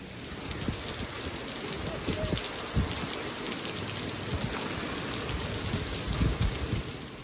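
Steady rain pours down outdoors, a dense continuous hiss of drops striking surfaces with occasional louder splats, fairly close, with no voices.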